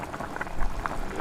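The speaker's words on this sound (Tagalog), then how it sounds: "kumukulo na po siya" Thickened chop suey sauce boils in a pan, a dense, close bubbling and popping that continues without pause for about a second.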